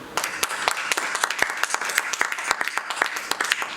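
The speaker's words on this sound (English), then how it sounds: "let's give Peter a round of applause" Audience applauds at a university professorial inauguration ceremony, many hands clapping in a brisk, steady patter that holds for several seconds without talk.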